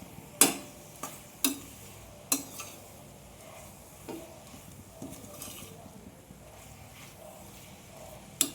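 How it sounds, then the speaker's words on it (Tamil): Masala being sautéed on low flame in a pan for jackfruit biryani, with sharp spoon clacks against the pan at irregular intervals over a faint sizzle, close and fairly loud, no speech. "இப்படியே பச்சை வாசம் போகிற வரைக்கும் நல்லா வதக்கிக்கலாம்"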